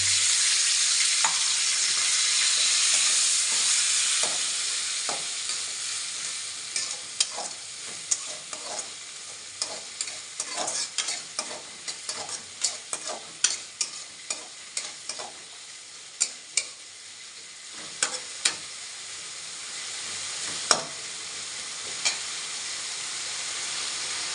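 Ginger garlic paste fries in a pan with a continuous sizzle, loud at first then easing, while a spatula scrapes and taps in irregular close strokes; no one speaks.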